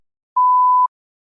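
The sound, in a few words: beep signalling start of response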